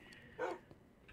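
A single short bark from a tamed wolf guard dog in the Minecraft video game, faint and quick against a quiet game background.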